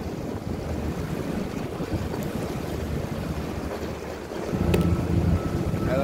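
A small motorboat with a troubled motor runs on open water, a steady low rumble mixed with wind buffeting and water wash that grows louder toward the end.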